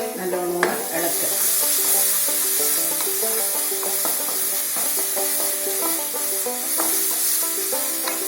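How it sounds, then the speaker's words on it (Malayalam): Kerala coconut curry (nalikeram vattichathu) is stirred in a pot over heat, giving a continuous close sizzle with scraping and clinking from the stirring spoon throughout. "തുറന്ന് നല്ലോണം ഇളക്കുക."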